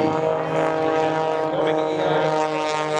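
Red Eagles S2B biplane propeller engine at the Abbotsford airshow, a steady loud drone with a rising and falling pitch as it performs a spin and hesitation roll, with no voices.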